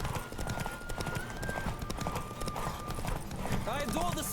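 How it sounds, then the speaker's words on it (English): Horse hooves clip-clop in a steady galloping rhythm in The Witcher 3 during a chase, loud and continuous beneath game music and ambient effects. "My horse is about to run out of stamina."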